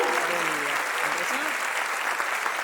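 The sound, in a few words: audience applause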